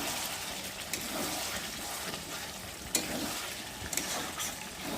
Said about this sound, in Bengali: চিকেনটাকে নেড়ে দিই।